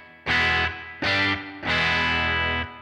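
An electric guitar runs through a mid-range boosting pedal, giving a loud, gritty, honky tone across three sustained strummed chords, each cut off sharply, with no talking.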